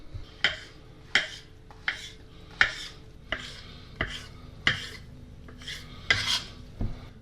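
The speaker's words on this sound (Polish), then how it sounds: "Kroimy teraz na równe kawałeczki." A knife slices bay bolete, birch bolete and porcini mushrooms into even pieces on a board: about a dozen crisp, regular cutting strokes up close, with no voices.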